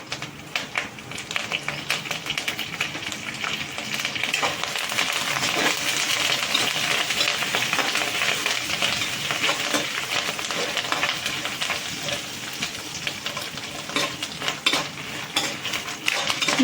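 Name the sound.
curry leaves frying and being stirred in a pan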